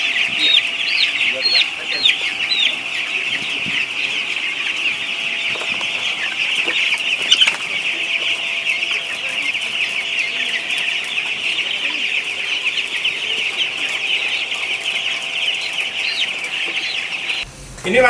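Many chickens clucking continuously at a poultry farm, a dense, loud chorus of overlapping calls held steady throughout before cutting off near the end.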